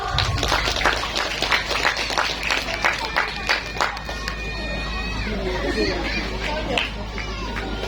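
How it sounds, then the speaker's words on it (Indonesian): An audience claps and cheers at a primary school storytelling performance, a dense burst of applause from a crowd with children's voices and chatter mixed in, steady throughout. "Tepuk tangan yang meriah dong."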